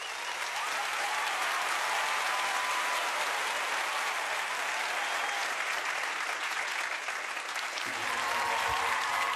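A large audience breaks into loud, continuous applause for a hitmaker and talent-show judge, a thick, even roar of clapping with a faint crowd murmur that holds at full level throughout.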